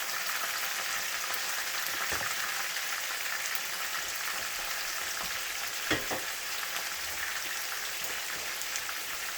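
Continuous loud sizzling of chicken frying in hot oil, a dense crackling hiss with a couple of soft clicks, steady throughout.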